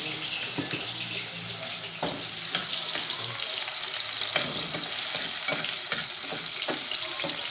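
Food sizzles and crackles steadily in a hot pan, with scattered pops and occasional stirring scrapes, fairly close and continuous.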